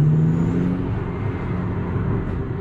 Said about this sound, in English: this sounds like a flipping combustion engine car